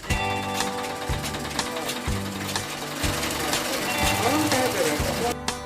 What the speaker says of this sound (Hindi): छोटे से कमरे में कई सिलाई मशीन रखी हुई है